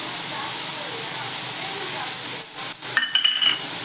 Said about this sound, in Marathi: आता आपण याच्यात थोडंसं जाडसर शेंगदाण्याचं कूट टाकणार आहोत